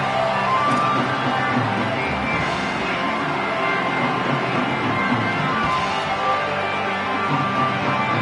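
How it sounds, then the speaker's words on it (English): Continuous stadium crowd roar from a Madden football video game before a Tar Heels kickoff, steady and dense throughout, with no clear cheers standing out. "You can hear from the noise. This crowd is ready to get after it."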